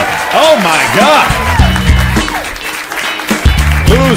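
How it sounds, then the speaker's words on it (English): An audience applauds at a comedy roast event, clapping mixed with loud whoops and voices cheering over it. "Keep this applause going"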